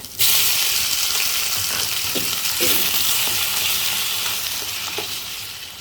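Two small tomatoes sautéing in a pan for chutney to go with multigrain dosa, a loud, continuous hissing sizzle with a few soft stirring knocks, fading slightly toward the end with no voices.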